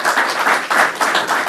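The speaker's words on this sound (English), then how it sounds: "Let's give him a round of applause, Rick Cotton." Applause for Rick Cotton at a New York port project announcement, a dense steady wash of clapping from the audience with small surges and dips and no voices over it.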